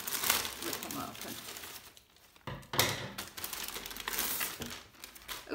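Plastic packaging around pressure cooker accessories is torn and crinkled open by hand in a few bursts of tearing and rustling, with a short pause in the middle and speech partly mixed in.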